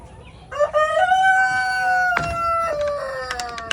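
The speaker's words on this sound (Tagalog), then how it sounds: "Manok ni Dre." Rooster crowing close by at a rural ranch house, one long drawn-out crow with clucking and other farm sounds around it.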